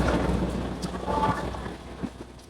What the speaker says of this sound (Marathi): खूप जोरात तुफान आला फ्रेंड्स बाहेर